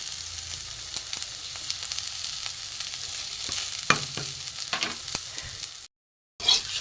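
Ground spices (turmeric, cumin-coriander, garam masala, grated ginger) frying with small fish in an oil pan, a continuous crackling sizzle with repeated stirring scrapes, a brief silent gap, then the sizzle resumes.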